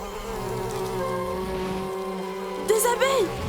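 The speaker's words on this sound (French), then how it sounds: "Des abeilles! Mais... Waouh! On dirait que c'est un gigantesque nid d'abeilles!" A swarm of bees at a giant hive in a Jungle Book Safari cartoon jungle gives off a dense, steady buzz, with a voice crying out in short bursts near the end.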